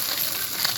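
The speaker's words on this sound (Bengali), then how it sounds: "চলুন এখন ভেজে নিই।" Fish koftas fry in hot oil, giving a brief continuous sizzling hiss close up with no talking.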